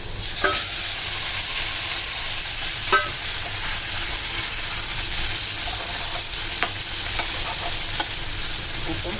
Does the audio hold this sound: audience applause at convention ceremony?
no